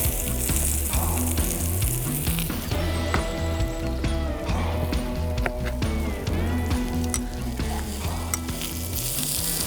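Feta cheese and grilled vegetables sizzle steadily on a grill pan, a loud, close, continuous frying crackle with no talk over it.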